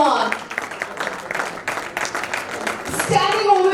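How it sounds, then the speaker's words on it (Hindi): Audience applause at a business launch event, uneven bursts of clapping that build and thicken, with voices and a woman's speech cutting through near the end. "उनके लिए जोरदार तालियां हो जाए"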